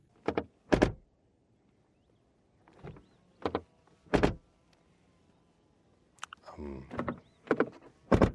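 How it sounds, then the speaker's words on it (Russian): Several separate car door closes on a Mercedes GLE, solid thuds spaced irregularly with quiet gaps between them, heard close by. "Звук закрытия двери."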